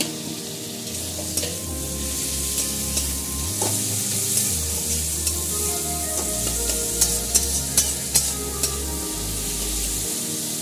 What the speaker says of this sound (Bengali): এবার টমেটো দিয়ে ভালো করে আমি কষিয়ে নেব।